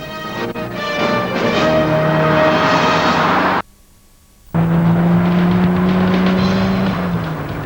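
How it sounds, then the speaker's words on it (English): A Datsun 240Z sports car engine roaring loudly with a rich exhaust note at Avon Park, cutting out briefly and then resuming with a steady drone and rising pitch. "Sounds absolutely wonderful, the note coming out of this exhaust pipe."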